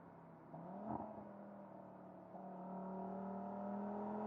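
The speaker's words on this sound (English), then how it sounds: "the emotive sound of the 5-cylinder engine is further enhanced by the optional RS Sports exhaust system" A 2022 Audi RS 3 five-cylinder engine with the optional RS Sports exhaust revs and hums steadily, rising in pitch as it accelerates, moderately faint and heard alone.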